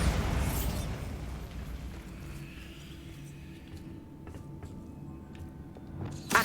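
A Bombarda spell explodes in Hogwarts Legacy, opening with a loud burst that decays into a rumbling tail, followed by quieter crackles and a sharp pop near the end.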